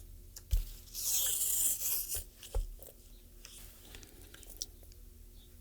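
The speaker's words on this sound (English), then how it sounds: "When I get a new holster, I wrap the frame in painter's tape." Painter's tape is torn off the roll and wrapped around the frame of an H&K VP9SK pistol, giving a loud ripping burst followed by softer rubbing, crinkling handling sounds close up.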